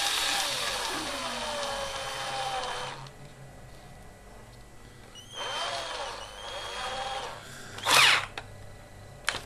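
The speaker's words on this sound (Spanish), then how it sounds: "vamos procediendo a realizar los diversos agujeros" A small drill bores holes in a recycled plastic PCB: two close whining bursts of several seconds each, quiet gaps between, then a sharp brief spike of noise near the end.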